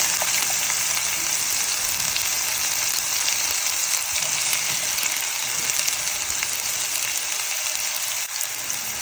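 Chopped onion added to cumin seeds frying in hot oil, a steady, loud sizzle that holds unbroken from start to finish with no voices.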